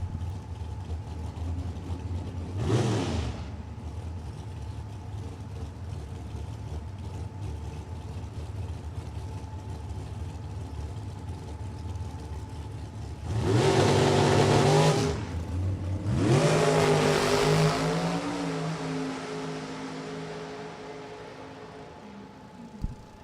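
A 2011 Racetech chassis dragster makes a single pass at a drag strip, a brief roar early, then a loud distant engine surge building and fading, heard over steady background hum.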